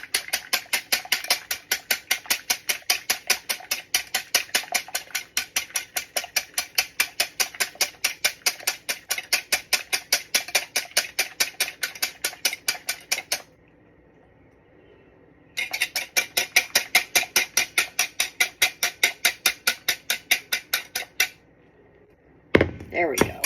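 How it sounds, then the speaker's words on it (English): Eggs being whisked for an omelette, a fast, steady metallic ticking of whisk against bowl that runs continuously, pauses briefly, then resumes before stopping with a soft knock near the end. "So we'll keep whisking and whisking and whisking."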